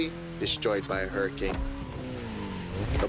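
A race car in The Crew Motorfest video game drones along through a scenic race, its engine sound sitting mostly under a man's loud, continuous talking.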